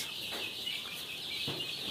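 Tiger-breed chickens clucking softly over a dense, high chorus of chicks peeping nearby on a poultry farm, with no talking.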